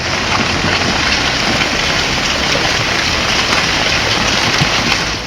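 Heavy monsoon rain pours down in Jammu and Kashmir, a dense, steady roar of water hitting surfaces that stays loud and unbroken throughout, with no voices.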